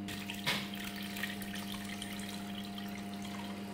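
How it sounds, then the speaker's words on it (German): Wild boar roast sauce poured through a sieve in a kitchen: a steady liquid trickle over a low hum, with one brief splash near the start. "Die Soße vom Braten brauchen wir natürlich. Gießen wir durch ein Sieb."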